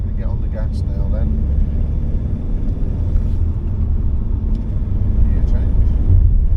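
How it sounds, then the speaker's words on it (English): A car accelerates through successive gear changes, from third up to sixth, its engine a steady low rumble that swells slightly toward the end, with a voice talking over it. "I'm going to get on the gas now then."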